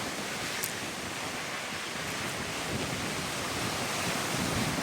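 Powerful waves breaking along a Cape Cod shore on a windy morning produce a constant, loud roar of surf and rushing water, with no voices present.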